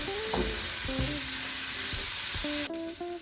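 Browned chicken sizzles in a Teflon pan with a constant hiss for orange chicken, and a few squeaky scrapes from turning or stirring break through the frying noise.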